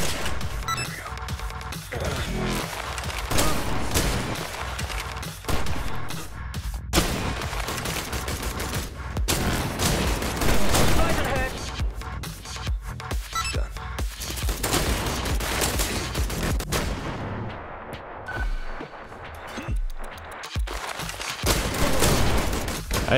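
Rapid gunfire from the first-person shooter I Am Your Beast, dense bursts and volleys of shots packed close together, loud and continuous with crashing impacts and no voices.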